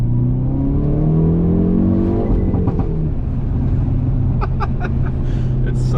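A stock-exhaust 2021 Hyundai Veloster N revs hard with a loud rising and falling engine roar, followed by sharp crackling pops near the end, while a person talks over it.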